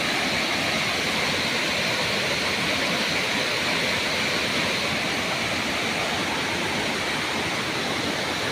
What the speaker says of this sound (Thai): ฝนตกน้ำป่าชักจะไหลหลากมากเลยนะครับ